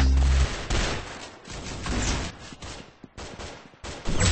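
Rapid bursts of gunfire from the first-person shooter Arsenal, loud and close, with repeated volleys separated by short gaps and no speech.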